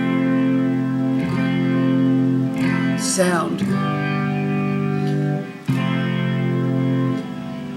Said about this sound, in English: he's got chorus on it, he's got delay, a lot of reverb